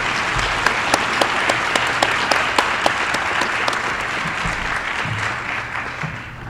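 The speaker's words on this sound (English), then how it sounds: "let's give a round of applause to Mr. Stoneman and the wonderful Cherokee C" Audience applause for a high school chamber strings ensemble at an evening awards event; dense, sustained clapping from a large crowd in a hall, steady throughout and tapering slightly at the end.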